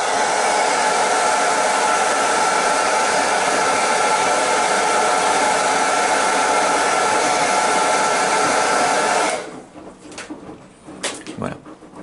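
A hair dryer blows steadily and loudly at close range for about nine seconds, drying thinner on a painted model, then cuts off, leaving a few small clicks and handling noises.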